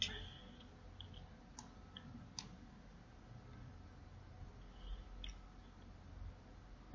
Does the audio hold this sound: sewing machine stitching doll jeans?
no